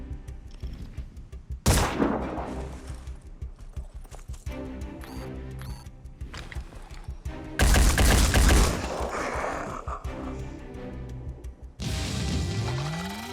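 Gunfire from the Phoenix Point Blood and Titanium video game comes as loud sudden bursts of shots, one sharp blast followed later by longer rattling volleys, over a busy rhythmic background of game sounds.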